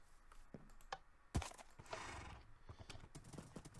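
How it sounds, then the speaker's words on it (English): Horse hooves clip-clop in a video game, a few uneven footfalls with a sharp clack and a brief whinny-like sound, fairly faint and heard on their own. "let's get a new horse."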